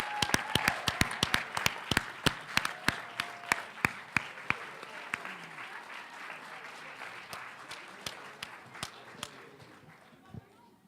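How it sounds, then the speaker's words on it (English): Audience at a school board meeting applauding a student team, with loud, distinct individual claps in a steady stream that slowly thin out toward the end. "Ladies and gentlemen, let's give this team a big round of applause."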